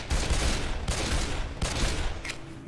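Rapid, loud gunfire from an animated Left 4 Dead 2 scene with dual pistols: continuous overlapping shots in dense bursts, with brief gaps and a sharp metallic click near the end.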